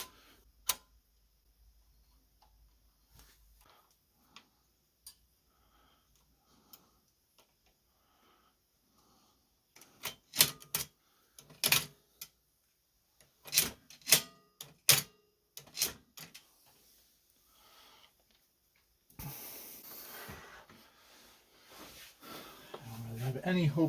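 A 1950s Toshiba Japanese index typewriter mechanism, scattered sharp mechanical clicks and clacks early on, then a burst of rapid loud strikes in the middle, followed by rougher rustling and scraping near the end; no talk.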